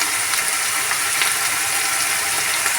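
Garlic paste frying with onion paste in a pan for a sea fish and pointed gourd bhuna, giving a steady, close sizzling hiss with faint stirring clicks.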